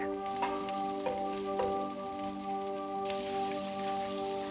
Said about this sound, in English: Sauté green onions, ginger, and garlic for 1 minute or till aromatic.